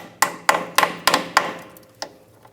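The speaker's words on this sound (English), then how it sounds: "I'm going to actually hammer on a 13mm because a 14 is too loose." Six sharp metallic hammer strikes ring out close by as a 13mm socket is hammered onto a rusty nut on a Toyota 4Runner, five in a steady rhythm and one more after a short pause, each decaying quickly.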